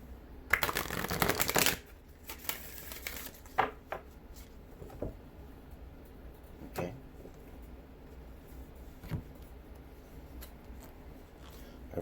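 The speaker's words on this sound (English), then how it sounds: "let's get one more shuffle" Tarot cards are riffled in a quick burst of crisp flutter, followed by scattered soft taps and clicks as the deck is squared in a quiet room.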